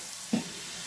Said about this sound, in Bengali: এইবার এগুলো কাঁচা লঙ্কা, আদা, রসুন, পেঁয়াজ সব এর মধ্যে দিয়ে দিলাম।